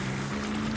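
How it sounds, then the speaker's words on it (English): A steady low motor drone with a constant hum, like a small boat engine running close by, with faint water and wind noise around it, from the cartoon Peppa Pig. "Oh, Mummy Pig, I think my boat can go faster than a duck."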